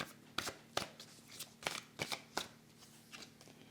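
A tarot card is laid down over another, heard as a quick run of soft, close card flicks and slaps, about eight crisp taps in a few seconds with no talking.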